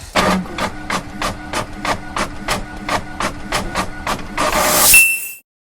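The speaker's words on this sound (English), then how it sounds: "right here in the back, the printer is printing" A Longer LK5 Pro large-volume 3D printer runs with a fan, its stepper motors knocking in a steady, even rhythm of quick repeated pulses, close by, ending with a brief hissing swell.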